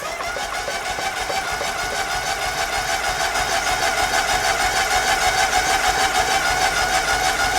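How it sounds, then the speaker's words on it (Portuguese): A car engine cranks steadily on the starter with the throttle held wide open during a compression test, a close, even, rapid whirring rhythm that grows slightly louder over several seconds with no talk. "Pisa no acelerador, abre a borboleta toda e dá partida."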